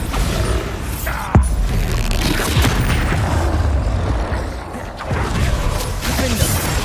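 Bombarda blasting spells in the Hogwarts Legacy video game burst in loud, crashing booms amid constant dense battle noise, with sharp impacts repeating through the fight.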